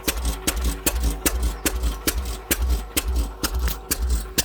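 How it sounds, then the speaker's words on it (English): A 208 oilfield engine sits near houses with a long snout serving as a muffler, running with a slow, steady chugging beat of loud rhythmic firing pulses and a rattling undertone. "God, I love the sound of these engines."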